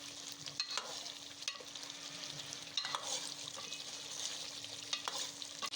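Chana dal koftas are gently stirred into a simmering curry gravy, giving soft, faint scraping strokes over a quiet, bubbling sizzle.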